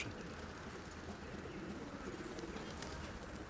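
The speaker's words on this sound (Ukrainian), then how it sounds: "Це голубка?" Pigeons in a keeper's long-kept backyard loft in December, with a female dove among them, cooing low and steadily beneath a constant rustling background; no one speaks.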